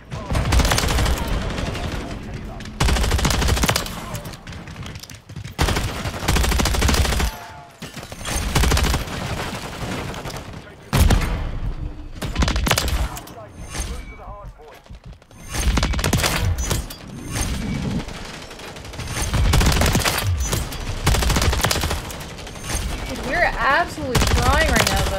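Bursts of rapid AMR9 gunfire in a Call of Duty MW3 match on the Shipment map, loud and close, repeating in short volleys with brief gaps and occasional mechanical clicks between them.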